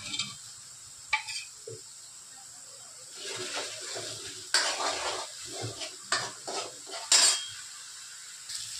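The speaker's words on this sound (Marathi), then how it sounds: "मसाला परतत आहे" A spice masala is stirred and sautéed in oil in a pan, with a spoon clinking and scraping against the metal in irregular bursts over a soft sizzle.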